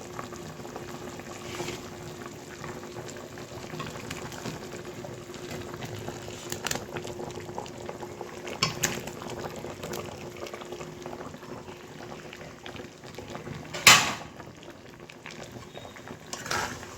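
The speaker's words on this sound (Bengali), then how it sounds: "আস্তে আস্তে এটা ফুটতে থাকুক। হ্যাঁ, এবার ফুটে গেছে" Milky vegetable shukto simmering in a pot, a soft, continuous bubbling at low level with a few faint clinks and one sharper knock partway through, no talking.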